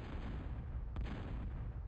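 Bombing explosions in a real-time strategy match on the Gasplant Plain map, a dense low rumble of blasts with one sharper burst in the middle, muffled and somewhat distant.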